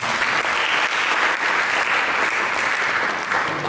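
Steady, full applause from a church congregation, many hands clapping at once in a loud, even roar that holds for a few seconds without speech.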